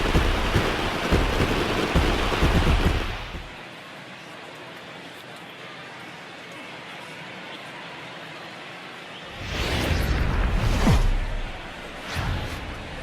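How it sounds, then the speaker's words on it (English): Steady rain over a ballpark in the baseball video game MLB The Show 19 hisses as a broad wash, cuts out for several seconds, then returns with a swelling gust. "There is rain in the area"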